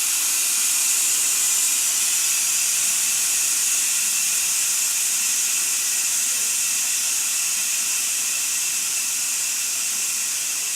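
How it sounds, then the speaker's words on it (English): An Instant Pot pressure cooker vents steam through its release valve, a loud, unbroken high hiss that holds steady and close for about eleven seconds with no talking. "Be somewhere free and clear where you can let it steam out."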